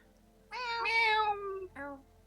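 A human voice mimics a cat, giving a long drawn-out meow followed by a shorter second meow, close and clear against a quiet background.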